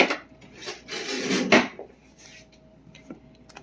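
Someone grabs a spoon while making homemade mustard: clattering of utensils and a rummaging rattle, then a sharp clink of metal and a few faint taps fading into quiet.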